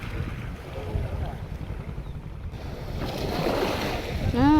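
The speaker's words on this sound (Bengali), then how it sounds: "এত ঢেউ হচ্ছে এত ঢেউ ঢেউ দেখো" River waves slap and wash around a small boat on a wide river, with wind buffeting the microphone, a steady close churning that swells louder toward the end.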